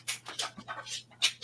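A dog pants in quick, breathy bursts at close range, with a few soft whimpers between them and no voices.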